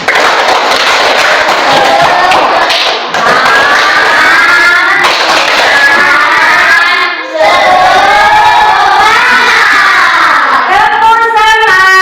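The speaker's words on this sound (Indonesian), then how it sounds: "sekarang tepuk tangan sekali lagi kalian" Classroom audience of students clapping together at a teaching session, loud dense applause with shouts and cheers of young voices, continuing with brief dips over several seconds.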